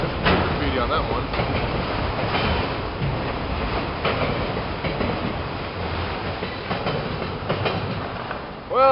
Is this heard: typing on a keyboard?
no